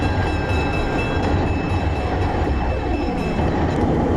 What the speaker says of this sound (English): A streamline train was making their way across the Otisville Bridge.